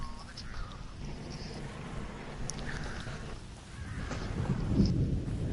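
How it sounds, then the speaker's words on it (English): Rain and rolling thunder in The Evil Within, a steady wash of rainfall with low rumbles building toward a louder thunder swell near the end. "it's gonna rain again"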